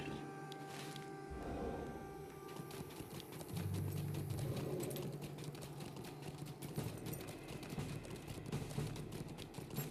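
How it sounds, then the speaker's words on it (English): Horse hooves clip-clopping as a character rides in the Lord of the Rings Online video game, steady rapid hoofbeats with game ambience and interface sounds. "We'll actually ride our horse to this one here."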